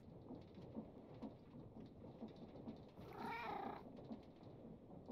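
A cat meows once in Minecraft, a brief mid-pitched call rising over steady rain and rumbling ambient noise.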